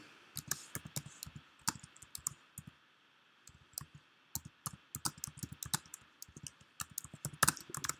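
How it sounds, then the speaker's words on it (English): Someone types on a computer keyboard in a quiet room, making close, crisp key clicks in uneven bursts with a short pause near the middle. "just type it in here"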